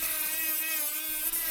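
Dremel rotary tool with a sanding bit working a wooden rattlesnake walking stick, a close, steady high-pitched whir with no pauses and no voices.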